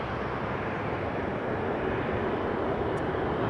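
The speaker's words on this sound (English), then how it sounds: "I see another Jet 2 on the roll" A Jet2 airliner on its take-off roll at Leeds Bradford Airport makes a steady, broad engine roar that stays loud and unchanging throughout, with no voices over it.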